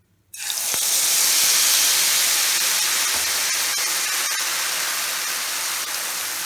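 Malpua batter hits hot ghee in a kadhai, setting off an abrupt loud, close hiss that holds as a dense, steady sizzle with faint crackles.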